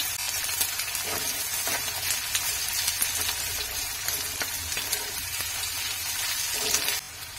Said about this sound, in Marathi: आणि हे सगळं छान असं भाजून घ्यायचं।